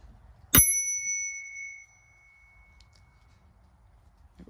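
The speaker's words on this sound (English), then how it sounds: "This thing's also got a bike bell too." A bicycle bell fitted to a John Deere Z425 zero-turn mower gives a single bright, close ding that rings out and decays over about a second in an otherwise quiet setting.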